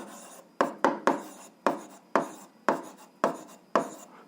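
A pen scratches out an answer by hand on paper during an eighth-grade algebra lesson, in a series of short, sharp strokes with brief pauses between them, close and clear with no speech.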